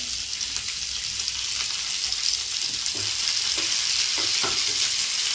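Garlic, ginger and coriander stalks sauté in hot oil for a shahi mixed vegetable dish, a steady, bright sizzle broken by a few soft stirring scrapes.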